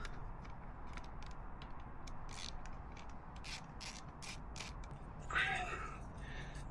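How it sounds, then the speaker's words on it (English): A torque wrench tightening bolts during a Yamaha motorcycle rebuild: a run of quick, sharp ratchet clicks at close range, then a short creak, over a low background hum. "Right, I'm going to torque those up."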